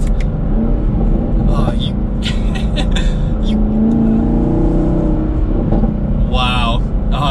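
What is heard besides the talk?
V8 sports car exhaust popping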